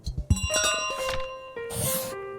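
A bell rung repeatedly in Untitled Goose Game's model village, bright ringing tones with lingering overtones amid clattering thunks, no voices.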